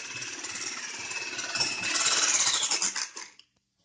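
Honey being whisked into cake batter that contains no oil, butter or baking powder: a busy, scraping rattle that builds toward the middle, stays steady for a few seconds, then stops abruptly.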